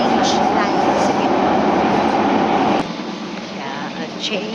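Riding an MRT subway train in Singapore: a steady loud rumble and rattle of the moving carriage that suddenly drops to a quieter hum partway through, with faint voices talking on board.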